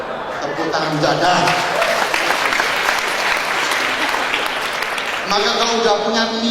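A seminar audience at a motivational talk applauds with sustained, dense clapping that fills the room for the whole stretch, loud and steady with a brief lull near the end before it swells again.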